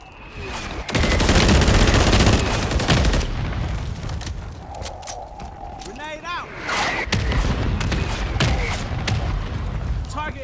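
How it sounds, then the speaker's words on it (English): A Call of Duty mortar strike lands as a loud rolling barrage of explosions and booms, with rapid gunfire crackling through it, then a brief lull and another heavy burst. "Mortar strike inbound now."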